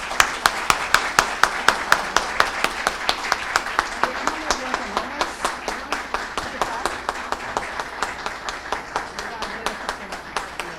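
An auditorium audience applauds with steady, rhythmic clapping that holds evenly throughout, the individual claps clearly spaced like synchronized palms.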